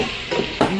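Chicken pieces sizzling in a pan with zucchini and parmesan, a steady loud frying hiss with a couple of stirring scrapes, close and without talk.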